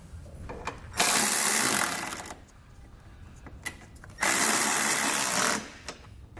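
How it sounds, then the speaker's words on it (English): A power tool with a 17mm socket tightening trailer hitch bolts on a 2020 Hyundai, two loud sustained whirring bursts of over a second each, separated by quiet gaps and a single metallic click. "I'm going to come back with a 17mm socket and I'm going to snug them all down."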